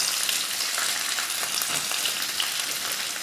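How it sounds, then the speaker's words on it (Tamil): Onion and green chilies sauté with chana dal in a hot pan, giving a dense, steady, close sizzle and crackle that holds at an even level throughout with no voices. "2 பச்சை மிளகாய், இதை வதக்கிடுவோம்."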